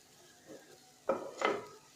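Turmeric powder being roasted and stirred in a pan for Kerala-style masala dosa, a few brief scraping and sizzling strokes, quiet and close, with no talk.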